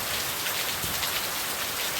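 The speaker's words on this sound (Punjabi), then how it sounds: "ਬੜਾ ਫੁੱਲ ਬਾਰਿਸ਼ ਹੋ ਰਹੀ ਹੈ" Heavy rain pours steadily in Punjab, a dense continuous hiss of drops drumming on surfaces with no pauses.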